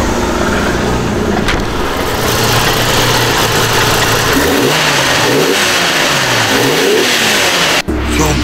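Engine of a custom-built car in Okinawa roars loudly and continuously, with several rising and falling revs in the middle and a sharp cut near the end.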